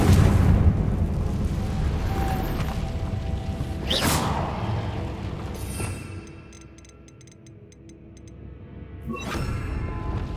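Confringo blasting spell explosions from the Hogwarts Legacy video game: two loud booming bursts with a rushing whoosh, spaced several seconds apart, over steady game ambience.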